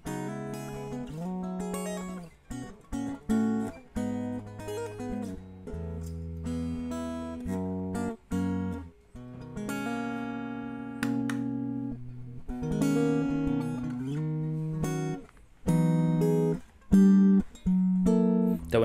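A Sterling JP60 electric guitar plays alone: a run of plucked notes and chords rings out in a clear rhythmic phrase, each note sustaining briefly before the next attack, with short gaps between phrases.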